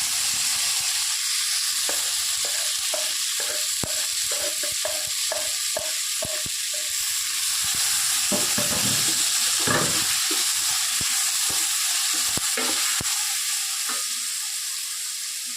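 Chopped onions and tomatoes frying in a pan for drumstick kuzhambu, a continuous sizzle broken by repeated clicking strokes of a spoon stirring and scraping, close and alone without speech.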